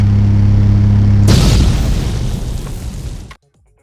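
A computer explodes with a sudden loud boom that cuts through a steady electrical hum, then rumbles and decays for about two seconds before stopping abruptly.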